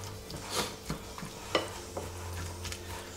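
Chicken liver frying in olive oil in a pan, a faint, close sizzle punctuated by several soft stirring and scraping knocks, without speech.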